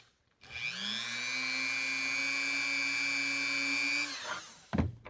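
A Dremel rotary tool whines steadily for about four seconds at close range as it scuffs the surface of sterling silver for a ring, then spins down and stops.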